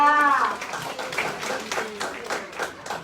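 An audience at an e-commerce open house event claps for a teacher, a brief scattered round of applause following a voice at the start.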